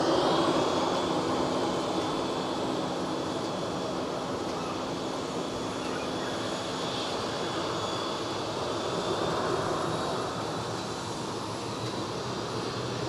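Airbus A320 rolling down the crosswind runway at Zurich for takeoff to Munich, a steady broad engine rumble with a thin high whine, moderately distant and constant throughout.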